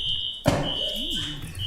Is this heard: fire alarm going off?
yes